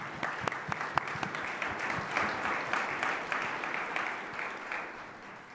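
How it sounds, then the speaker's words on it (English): Audience applause for Jason at a Columbus Metropolitan Club forum on Black men in Central Ohio, a steady roomful of clapping with a few sharper claps standing out near the start, sustained for about five seconds without speech. "let's give a round of applause for Jason"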